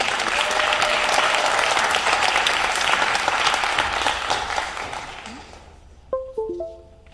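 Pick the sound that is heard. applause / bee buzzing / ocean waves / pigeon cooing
applause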